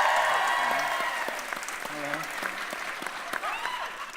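Studio audience applause for a quiz show's guests, a burst of clapping that starts loud and slowly thins out, with a few voices and laughs mixed in.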